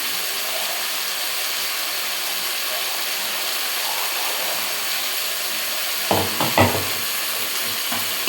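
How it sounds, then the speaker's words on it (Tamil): Masala powder and vegetables such as okra and cluster beans sautéing in a pan for kara kuzhambu, a steady close hiss of frying with a few stirring clatters near the end. "இந்த பச்சை வாடை வதக்கணும்."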